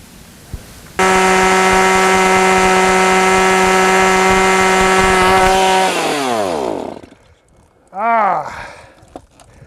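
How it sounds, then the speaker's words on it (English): A loud, steady motorized drill drones at high pitch for several seconds, then winds down; a brief second rev follows, with faint voices around it. A Shaw Tool second-generation backpack drill bores into the ground and breaks through. "We just broke through. Another drilling success."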